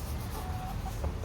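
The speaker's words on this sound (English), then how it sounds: "Dad's favorite chicken. Rooster." A rooster clucks softly in a backyard, its low calls faint and muffled under steady background noise.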